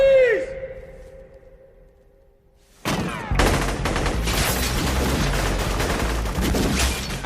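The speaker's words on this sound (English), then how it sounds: "the standout slow-mo scene is Neo and Trinity's lobby shootout" Gunfire from the lobby shootout in The Matrix: after a ringing tone and a near-silent pause, a dense, loud fusillade of rapid shots and echoing impacts runs steadily to the end, with an action soundtrack mixed in.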